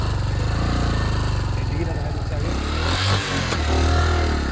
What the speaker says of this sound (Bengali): মুস্তফা ভাইয়ের বাইক কাইনেটিক বক্স, সেই পুরনো প্লাটিনা।